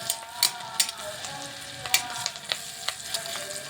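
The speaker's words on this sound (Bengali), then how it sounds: "এই যে আদাটা লঙ্কাটা ভালোভাবে ভাজা ভাজা হচ্ছে।" Ginger and chili frying in butter, a close, steady sizzle punctuated by irregular sharp pops and spatters.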